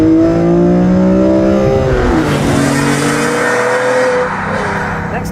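A naturally aspirated BMW M3 engine revs up hard and high, its pitch climbing and falling as it shifts, loud and close with no talking.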